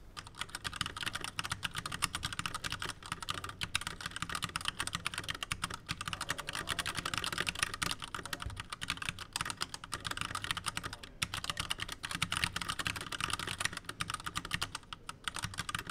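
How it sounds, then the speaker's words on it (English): A Keychron K6 mechanical keyboard fitted with Keychron red switches is typed on steadily, a dense, continuous patter of close keystrokes with no pauses and no voices. "this is a typing test of my Keychron K6 keyboard, and this is with the Keychron red switches that came delivered with it"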